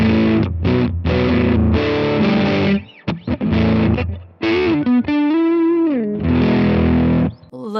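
An electric guitar runs through a Volga pedal with both blended channels cranked, giving thick, heavily distorted chords and a sustained, wavering bending lead line, loud and alone with brief gaps.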